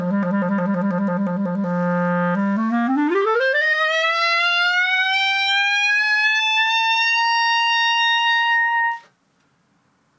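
A single sustained instrument note from Rhapsody in Blue, wavering with vibrato then sliding upward in a long glissando and swelling into a bright, loud held high tone before cutting off abruptly into silence.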